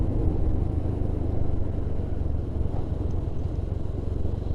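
A motorcycle ridden on a slippery road after a landslide, a steady close engine rumble with wind and road noise that holds evenly throughout.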